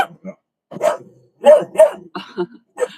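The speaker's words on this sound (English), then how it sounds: "There's an absolutely gorgeous Samoyed walking by." A Samoyed barks as it walks past outdoors, giving several sharp, close barks in short bursts separated by quiet gaps.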